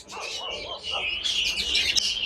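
Young layer chicks peep in quick, high, overlapping chirps nearby, a steady chorus that grows fuller toward the end.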